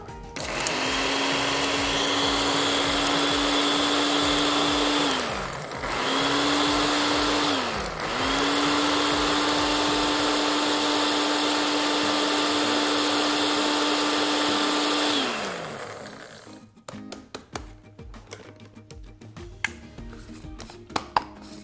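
A blender pulses cannabis shake into fine flour: three loud, steady whirring bursts with brief dips between them, about fifteen seconds in all, then the motor winds down, followed by scattered clicks and handling noises.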